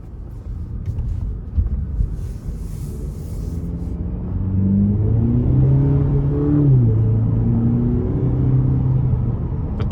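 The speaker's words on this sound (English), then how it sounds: "here we go on test drive of the 2020 Cadillac CT4 Luxury" A 2020 Cadillac CT4 Luxury with a 2.0-liter turbo and rear-wheel drive pulls away on the road, its engine rising through gears in a loud, steady interior drone with one shift midway.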